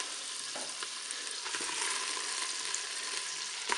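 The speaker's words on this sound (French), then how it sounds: "Je vais pouvoir mettre mes boudins blancs dans la cuve du Cookéo." White sausages sizzle in butter in a Cookeo multicooker pot, a steady, close, even frying hiss with light crackles and no talking.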